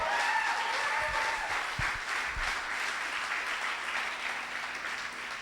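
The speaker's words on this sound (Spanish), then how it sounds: "Dale un aplauso." A congregation at a Sunday church service applauds with a steady wash of clapping, moderately loud and gradually easing.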